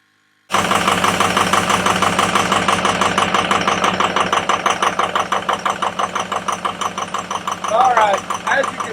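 A Ford F-350 engine cuts in and then idles roughly, with an uneven, loping beat up close that stumbles in a steady rhythm, and a voice speaks briefly near the end.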